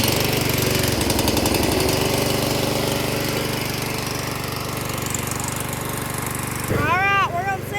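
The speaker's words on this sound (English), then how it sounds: "Alright, we'll see if it'll start." Yard Machines lawn tractor engine that had sat for a month, cranking with a jump pack and then catching into a loud, steady rough running drone, with a squealing sound near the end.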